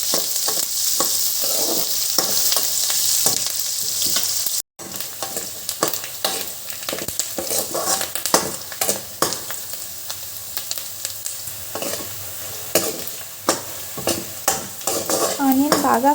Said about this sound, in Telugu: ఆనియన్ బాగా ఫ్రై అయింది